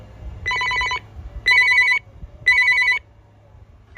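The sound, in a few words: RadioShack 43-1704 cordless phone ringtone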